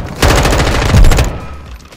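An automatic weapon with no attachments fires in Call of Duty Modern Warfare 2, a loud, rapid burst of shots lasting about a second before dying into a short echoing tail.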